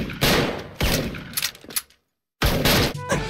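Sharp, loud shots from an Origin Musket in a first-person video game shooter: three or four close, punchy reports with brief gaps and one clean silence midway.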